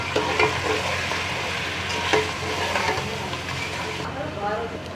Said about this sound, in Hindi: ये चिकन हमारी फ्राई हो चुकी है तो अब हम इसमें कुछ मसाले डाल देते हैं। इनको मिक्स करेंगे।